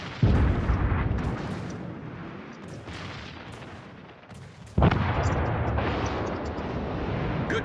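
Naval artillery salvos in World of Warships, heavy booming blasts with long rumbling tails, a loud burst near the start and another midway, over continuous battle noise.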